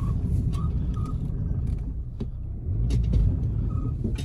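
A car, a Ford Escape, Honda Insight or Civic, rolls slowly over dirt ground while being loaded into a shipping container in New York; its low engine rumble swells briefly near the end, with faint clicks and knocks.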